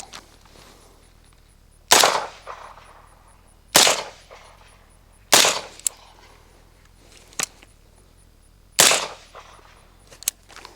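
Five rifle shots through a JMac Customs Banka suppressor fired at spaced intervals, each a sharp hissing crack with a short tail, plus a couple of fainter clicks between.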